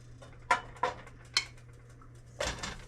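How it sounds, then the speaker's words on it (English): Raw beef cubes going into a pan with heated extra virgin olive oil for stew, heard as a few distinct clinks and clatters of metal against the pan with a soft sizzle at the end, close and quiet. "So now it's time to go ahead and add in my beef cubes."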